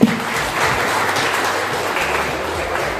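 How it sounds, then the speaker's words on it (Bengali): Audience applause at a memorandum of understanding signing ceremony between Southeast University and Amanat Shah Group, a dense, steady clapping from a crowd that holds at an even level for about three seconds with no talk over it. "সবাই একটু করতালি।"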